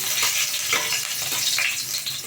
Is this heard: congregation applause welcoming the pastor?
no